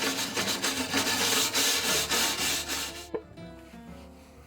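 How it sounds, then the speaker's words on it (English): Wire brush scrubbing oxidation off the metal firebox of a gas grill, a loud rhythmic scratchy rasp of repeated strokes that stops partway through, followed by a single knock and quieter handling. "For this, a wire brush is the best tool."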